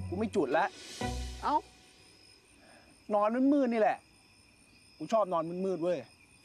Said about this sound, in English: Minus the crickets in the background.